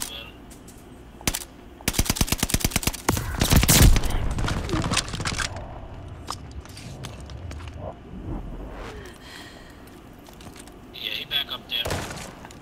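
Rapid bursts of automatic gunfire from an online shooter set in a desert siege map, a loud volley that dies away into scattered shots and movement, with players talking over it.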